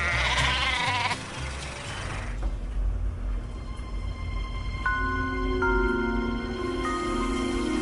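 Sheep bleat on a farm, a loud nearby cry at the start followed by several more bleats overlapping with creaking and general pen noise.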